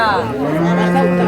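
A dairy cow with calf at a cattle market in Dinajpur lets out one long, loud, drawn-out moo close by, its tone sliding steadily throughout.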